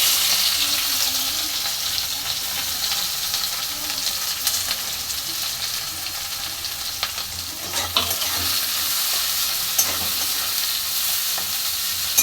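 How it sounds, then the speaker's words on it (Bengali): Onions sizzling in hot oil in the same pan just used for frying fish, a steady close hiss with occasional stirring scrapes and pops, no voices. "এবার দিয়ে দিচ্ছি তেলের মধ্যে পেঁয়াজ"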